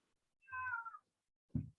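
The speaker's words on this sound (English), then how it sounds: "I hear a kitty." A house cat gives a single clear, close meow, followed by a short, soft muffled bump in an otherwise quiet room.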